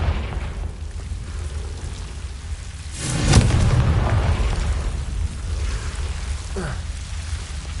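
A Confringo blasting spell explodes in Hogwarts Legacy, a single loud burst with a crackling, rumbling tail that lingers over a dense low background, followed by a fainter second pop.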